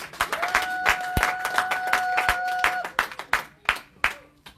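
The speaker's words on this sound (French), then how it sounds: "Applaudissons et asseyez-vous." A church congregation claps during a French-language service, with sharp, fairly close hand claps in an uneven rhythm over a held sustained tone, thinning out toward the end.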